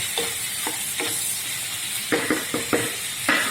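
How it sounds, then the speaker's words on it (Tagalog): Ingredients for ginataang hipon, a shrimp dish, sizzle steadily in a pan, with repeated scraping stirs breaking through the constant frying hiss. No one speaks. "sinisa natin sa ating mga ingredients na"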